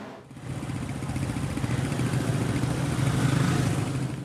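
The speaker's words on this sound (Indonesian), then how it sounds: "Petugas memburu kendaraan bermotor yang menggunakan knalpot brong yang memicu suara bising." Motorcycles with loud modified exhausts near a town square at night, a continuous droning engine roar that swells slightly as it revs, close and loud.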